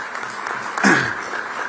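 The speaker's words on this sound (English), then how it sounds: "Let's give a big round of applause" A conference audience in Visakhapatnam gives a brief wash of applause, fairly faint and distant, with a slightly louder swell near the middle.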